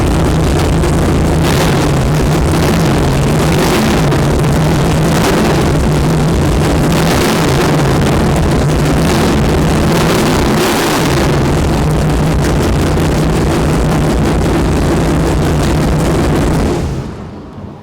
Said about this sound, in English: We'll turn the ignition on, which also turns the fuel pump on, and we'll start it up.